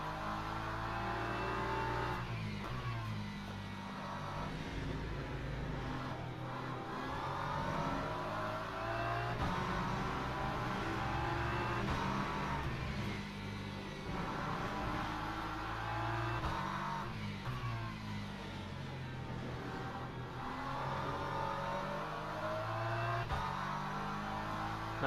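A GT3 race car howls under hard acceleration in the sim racing game Le Mans Ultimate during a multiclass endurance race at Qatar, the engine note steady and loud with rising gear pulls throughout, no voices over it.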